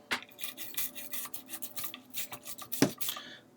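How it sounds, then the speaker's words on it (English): Brush scrubbing the feed ramp of a Lee Enfield rifle: quiet, close, rhythmic scratchy bristle strokes in rapid repeated bursts, with one sharper scrape near the end, no talk. "Give the feed ramp a good scrub in here."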